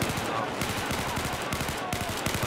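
Rapid M16A4 burst-fire rifle shots in a video game, loud dense cracks repeating in quick clusters across the whole moment, with players talking underneath.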